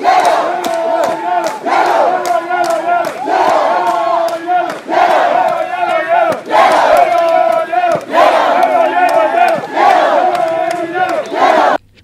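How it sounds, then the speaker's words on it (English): Dense crowd of supporters cheering and chanting loudly to greet President Museveni in Oyam District, with rhythmic bursts of shouting, whistles and ululation close by for the whole stretch. "the president made his way out, only to be met by cheering crowds"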